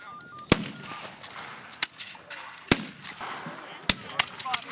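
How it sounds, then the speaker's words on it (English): Flintlock muskets fire at a War of 1812 re-enactment battlefield, four sharp, loud cracks spaced about a second apart over a murmur of crowd noise and faint distant sounds. "after it was loaded, a piece of flint would come down and hit a piece of steel, causing a spark"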